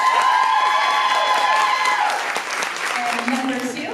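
A convention panel audience claps and cheers steadily for a full burst of applause, a dense crowd sound with scattered whoops and voices, fading slightly toward the end.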